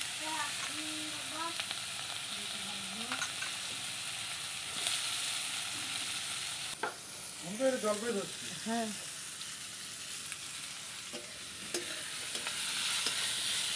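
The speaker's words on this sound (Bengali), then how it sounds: "এখন হচ্ছে পেঁয়াজ ভাজা হচ্ছে" Onions fry in a pan with whole cumin and bay leaves, giving a dense, continuous close sizzle and hiss. Voices speak briefly over it.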